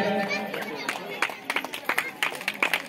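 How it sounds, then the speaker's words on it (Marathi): Scattered applause breaks out at a felicitation ceremony honouring local officials, rising into a run of sharp claps over the second half after a voice trails off at the start. "जोरदार टाळ्या वाजवायच्या."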